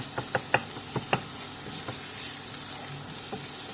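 Garlic and pork stir-frying in a pan for rice porridge: a handful of sharp spatula clicks and scrapes near the start over a continuous soft sizzle that carries on evenly, with no speech.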